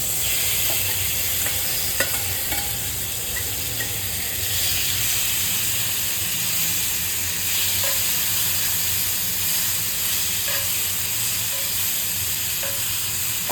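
Prawns fry in a pan on low heat, a continuous close sizzle and hiss with occasional scrapes and clinks of a spoon stirring, steady throughout with no voices.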